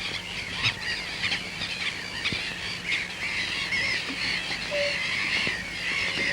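A colony of terns shrieking and calling overhead, a dense continuous chorus of harsh high cries with a few sharper squeals standing out.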